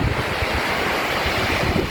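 Rough sea surf breaking by the shore, a steady close roar of churning waves mixed with heavy wind buffeting the microphone, continuous throughout with no voices.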